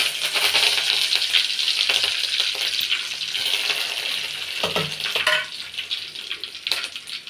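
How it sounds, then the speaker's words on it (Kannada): Mustard seeds and curry leaves sizzle and crackle in hot oil for village-style basaru sambar, a steady hissing fry broken by a few sharp pops and clinks of a utensil, close and fairly loud with no talk. "ಸಾಸಿವೆ ಮತ್ತು ಕರಿಬೇವಿನ ಸೊಪ್ಪು ಹಾಕ್ತಾಯಿದ್ದೀನಿ"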